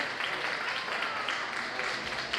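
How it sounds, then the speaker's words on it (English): A community meeting audience applauds steadily and continuously for a church member, a dense even patter of clapping filling the whole moment at moderate level. "Give him a round of applause."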